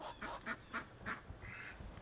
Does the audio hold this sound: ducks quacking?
yes